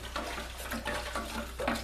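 Clay is stirred and resuspended in water, giving quiet, soft sloshing and swirling with faint knocks against the container, continuous and close.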